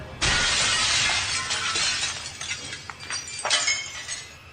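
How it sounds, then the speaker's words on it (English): A glass window shatters loudly in one sharp crash, followed by a few seconds of tinkling, scattering shards and debris settling. "As I was running, I heard my window shatter."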